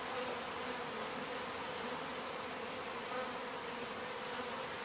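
Honey bees fresh from new packages fly around disoriented, filling the air with a steady, dense buzzing drone that holds evenly throughout without any voices.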